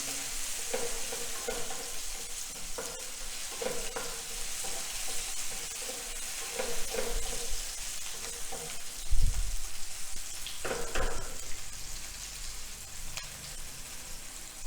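Chopped capsicum and tomato frying in a pan for jeera aloo, a steady soft sizzle broken by scraping stirs and occasional louder clacks of the spatula against the pan.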